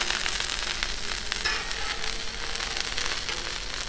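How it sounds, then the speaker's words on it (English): Broccoli sizzles on a 36-inch Blackstone flat-top griddle as a steady, dense frying hiss with fine crackles that holds at an even level throughout, close by and with no talking. "All right, we're gonna put this broccoli down."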